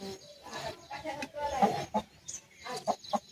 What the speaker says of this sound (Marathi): हे बघा कोंबडी कशी वरडायला लागली